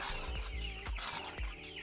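Broiler chicks in a winter brooder give soft, close peeping and clucking calls in short repeated bursts, alone with no talk.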